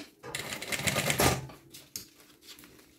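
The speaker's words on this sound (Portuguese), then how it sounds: "Esse sanduichinho que tá aqui atrás está sendo costurado no principal pra ficar tudo assentado." A sewing machine stitches bag lining on a wide-opening zip pouch, running in a close, steady burst of fast needle clatter, then a brief pause and a softer short run.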